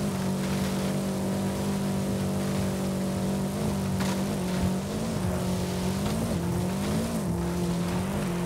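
Race car engine in the video game Forza Horizon 5, a steady loud droning drive with pitch rising and dipping through gear changes, heard alone without talk.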